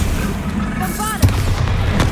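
A Bombarda blasting spell goes off in Hogwarts Legacy, a single booming explosion with a sharp onset and a rumbling tail, loud and close amid other game effects.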